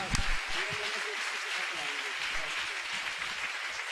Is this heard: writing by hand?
no